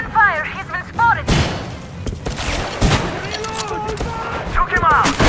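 Gunfire in the Metro Exodus video game, sharp bursts and heavy booming shots going off repeatedly amid shouting voices and combat commotion.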